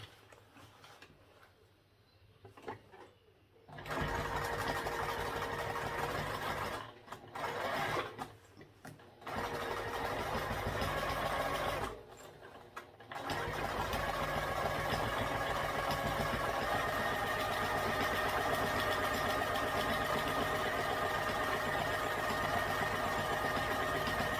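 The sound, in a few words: sewing machine topstitching a tote bag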